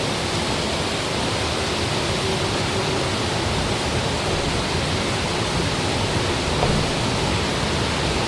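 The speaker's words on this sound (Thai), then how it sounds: "ลมแรงเกิน" Dense, continuous storm roar of strong wind and driving rain hitting a house, a steady broadband rush that stays loud and unbroken from start to finish.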